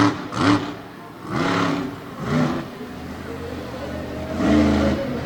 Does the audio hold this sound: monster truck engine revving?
yes